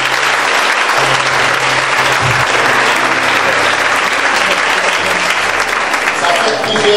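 Church congregation applauding, dense sustained clapping from a large crowd that stays loud and even from start to finish, with voices faintly mixed underneath.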